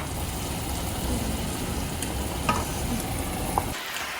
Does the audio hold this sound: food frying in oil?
yes